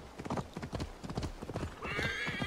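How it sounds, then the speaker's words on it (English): A horse gallops in the video game Assassin's Creed Valhalla, rapid rhythmic hoof clip-clops driving steadily at close range, ending with a loud whinny near the end. "I'm gonna hop onto my horse and I'll see you guys in a bit."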